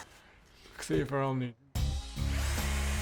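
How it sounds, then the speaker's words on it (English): A power drill whirs in short bursts, its motor whining steadily at close range, with a voice speaking beforehand. "now we have to do the work and drill a new hole"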